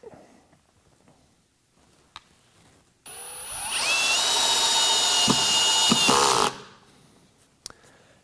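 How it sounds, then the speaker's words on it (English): A power drill whines loudly for about three seconds as it drives a screw, rising slightly in pitch, with faint clicks of the clutch setting before and after. "I need to click my drill in maybe another notch or two"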